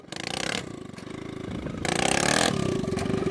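Mini quad bike (ATV) engine revving hard nearby, a loud buzzing small-engine roar that rises and shifts pitch through repeated throttle bursts, continuous without pauses or voices.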